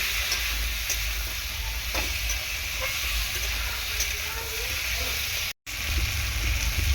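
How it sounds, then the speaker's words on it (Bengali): Fried potatoes being sautéed in spice paste in a home kitchen for rohu fish curry, a steady close sizzle and hiss with faint stirring scrapes, running continuously with a brief dropout near the end. "মশলার মধ্যে ভেজে রাখা আলুগুলো দিয়ে খুব সুন্দর করে এরকম করে কষিয়ে নিতে হবে"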